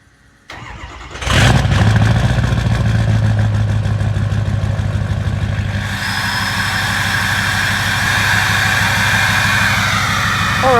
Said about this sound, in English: let's start this thing up and get a cold start.